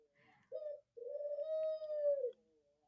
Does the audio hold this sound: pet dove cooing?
yes